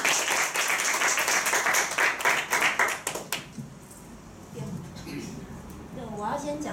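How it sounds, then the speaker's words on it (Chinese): An audience bursts into clapping to welcome Wang Jing, a steady patter of many hands for about three seconds that then fades into a quieter room with a voice speaking. "我们就直接掌声欢迎王静"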